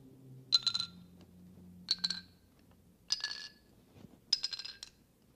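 Four struck metal bars ring out one after another in an even, bell-like sequence, each note clear and bright with a short decay; one bar sits slightly out of tune with the rest.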